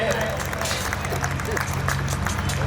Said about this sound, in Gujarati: જોરદાર તાળીઓના નાદથી વધાવો સાહેબ